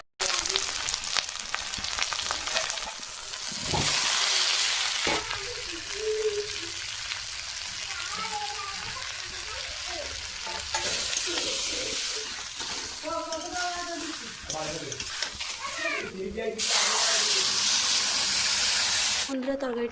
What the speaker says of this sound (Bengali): পেঁয়াজ, লঙ্কা, আদা, টমেটো কেটে নিয়েছি, কচুগুলো ছাড়িয়ে নিয়েছি। তেল তার সঙ্গে অ্যাড করবো